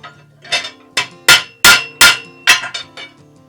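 A bit is hammered tightly into bar stock for a Toro snowblower scraper bar, with about eight sharp metallic hammer strikes in an uneven rhythm, close and loud, with nothing else heard.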